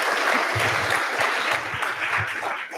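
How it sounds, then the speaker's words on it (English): Audience at a Draper University fundraising event applauds steadily and loudly for about three seconds, a dense wash of clapping that holds throughout and eases slightly near the end. "A big round of applause for Draper University"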